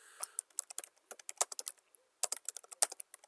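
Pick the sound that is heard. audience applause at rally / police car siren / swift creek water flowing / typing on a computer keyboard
typing on a computer keyboard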